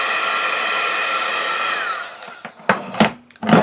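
A heat tool melting embossing powder on faux leather blows a steady, loud whooshing hum for about two seconds, then the sound drops away into several sharp knocks and clatters as it is set down.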